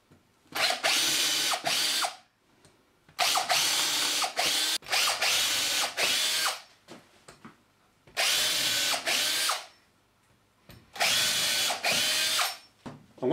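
Power drill driving two screws into a wood block for an adhesive strength test, in four loud whirring bursts of roughly two seconds each with short pauses between, close and with no talk.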